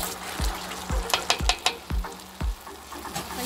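Homemade spaghetti pasta fries in a pan with a continuous sizzle, broken by regular, close stirring knocks of a utensil against the pan.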